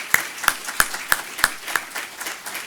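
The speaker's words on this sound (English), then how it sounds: "I'd ask everybody to give you guys a round of applause" Sparse, distinct claps from a small audience at a DEA Red Ribbon Rally, about six sharp hand claps at a steady pace that thin out toward the end, fairly quiet.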